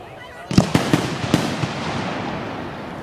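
Large firework mortar shells bursting at an outdoor fireworks show: a quick series of five or six loud booms in the first second and a half, trailing into a long crackling, rumbling decay.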